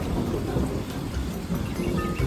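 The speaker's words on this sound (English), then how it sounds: "It's thundering." Morning thunder rumbles low and continuous under steady rain, a dense, fairly loud roar with no talking.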